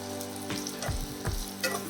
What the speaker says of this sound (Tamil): இது எல்லாம் வதக்கிறேன்.